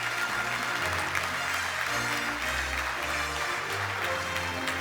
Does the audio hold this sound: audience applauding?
yes